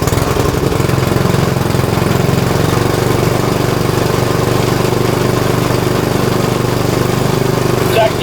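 A snowblower engine runs loudly and continuously up close after starting, choke off and throttle raised, holding a steady rough drone throughout.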